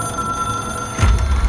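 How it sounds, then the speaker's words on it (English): A telephone rings in the game Control, a bright bell tone holding steady through a short moment with a low rumble entering near the end. "It is a phone."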